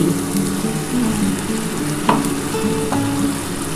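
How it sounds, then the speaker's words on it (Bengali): Spice water poured into hot oil for a bhola fish curry (kalia), giving a dense, continuous sizzle and crackle with a couple of sharp pops, close and fairly loud throughout. "এই যে মশলার জলটা দেখো বন্ধুরা এটা আমি দিয়ে দিচ্ছি"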